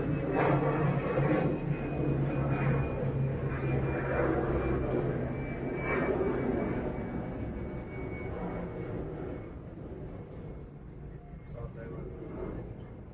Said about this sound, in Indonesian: tadi maaf ya ada gangguan pesawat lewat